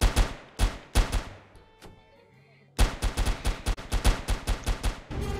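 Bursts of automatic gunfire in a first-person shooter video game, rapid close cracks in several volleys separated by a short quiet gap, with sparse faint voices.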